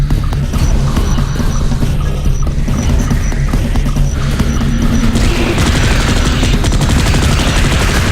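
Automated turrets in the sci-fi shooter Space Beast Terror Fright blast away in a dense, continuous barrage of loud rapid gunfire, with a mechanical drone underneath and the firing growing harsher and busier toward the end.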